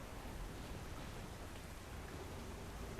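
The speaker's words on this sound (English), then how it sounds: "Constant rain is no fun either." Constant rain on a planet in a video game makes a faint, steady broadband hiss with no distinct drops or voices.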